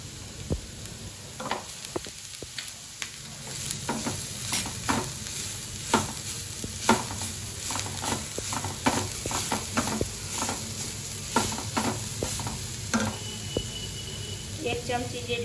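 Momo filling being stirred with a spoonful of butter in a frying pan, giving steady scraping and clinking strokes over a soft sizzle, close and fairly loud throughout.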